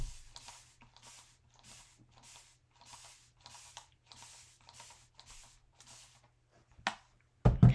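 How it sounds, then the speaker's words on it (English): A spray bottle hisses in a steady series of short, evenly spaced bursts, close by, spraying down a transfer on a winter craft sign, ending with a couple of louder handling noises. "Let me spray that transfer down."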